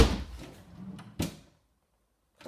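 A drawer slides open with a brief rattle, then a second quick knock as it stops, followed by near silence.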